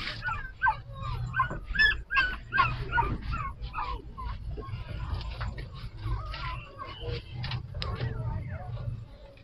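Several dogs bark, yip and whimper nearby in an overlapping, restless chorus over a low steady hum.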